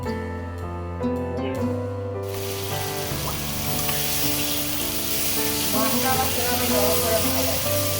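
Spices with chilli and coriander powder fry in oil with a continuous bright sizzle, heard under background music.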